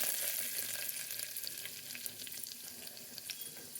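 Tempering seeds, dals and curry leaves sizzle and crackle steadily in hot oil for a bitter gourd curry, a close, fairly quiet fry with bright pops and no talking.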